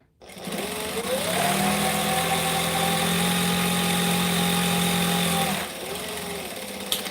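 A sewing machine stitches in one steady, continuous run while speed sewing a mini quilt, its motor whirring evenly at close range before slowing and stopping.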